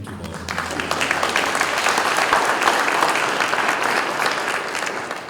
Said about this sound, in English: Keep it going, this is going to be a clap fest.